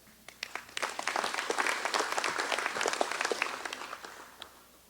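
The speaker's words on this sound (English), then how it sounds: "Let's give a big round of applause for all of these that are our partners in the various activities that we have." A hall audience at a regional economic development council's annual meeting breaks into a full round of applause for its partners, dense clapping that builds quickly and holds steady for several seconds with no voices over it.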